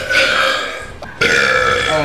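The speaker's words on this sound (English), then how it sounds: "whole video is just gonna be burps." Two long, loud belches after chugging soda in a burping challenge, the first rumbling for about a second and the second following after a brief pause, both close and raspy with no talk.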